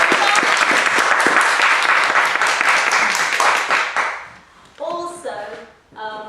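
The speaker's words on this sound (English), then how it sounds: "So can we give them a round of applause?" Audience applause at a club president's address meeting, a dense burst of clapping that fades after about four seconds, followed by a couple of short voiced sounds.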